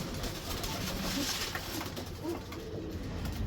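Pigeons coo softly and repeatedly among a rooftop flock of fancy pigeons, including a large old bird with black wing feathers, over steady low background noise.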